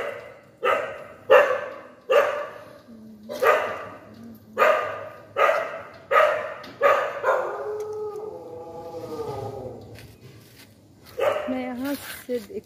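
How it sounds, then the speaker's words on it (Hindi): A dog barks repeatedly up close, about ten sharp, evenly spaced barks, followed by a longer stretch of voices before one more bark. "आपको देख के डॉगी क्यों हल्ला कर रहा है जी?"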